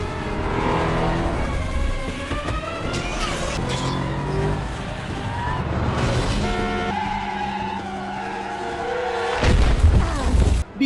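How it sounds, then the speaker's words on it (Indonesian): A car chase in an action film, with a car driving fast: engines roar and tires skid, mixed with a dramatic score and occasional voices. "Dengan menggunakan sebuah mobil, Eden kembali mengejarnya."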